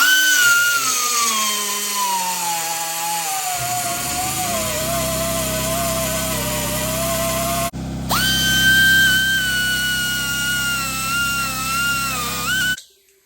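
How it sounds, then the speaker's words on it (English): A straight die grinder with a porting bit grinds down metal on a broken Harley chopper kick start. The loud, high-pitched whine runs continuously, shifting in pitch under load, with one brief break before it starts again. "I'm just using a porting bit on a straight die grinder, and go ahead and take this material down"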